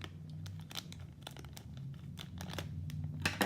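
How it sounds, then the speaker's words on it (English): Scissors cut open the plastic packaging of a Beyblade winder for a Revive Phoenix set, giving a run of close, crisp crinkling and snipping bursts over several seconds, with no one talking. "luckily, I have some scissors here to open that up"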